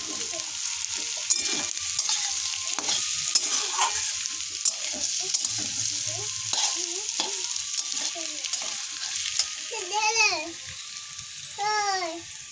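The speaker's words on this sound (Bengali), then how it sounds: "এবার রসুনটা থেতো করে রেখেছিলাম, ওটাও দিয়ে দিলাম, দিয়ে আবার একটু ভেজে নেব।" Crushed garlic sizzles and fries in a pan while being stirred, a constant close hiss with a few scraping sounds, and a voice chatters faintly in the background.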